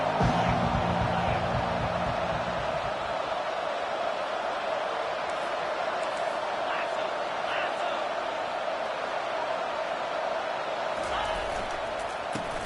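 Stadium crowd noise from a college football video game, LSU against Pitt, a steady broad roar holding constant throughout, with brief low thumps near the start and end and no talk over it.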